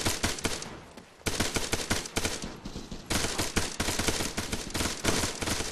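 Gunfire crackles during Marine platoon training with the 15th MEU, rapid bursts of machine-gun and rifle shots in dense fusillades broken by one short lull, loud and sharp.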